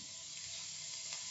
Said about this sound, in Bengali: জিরেটা ফুটে গেছে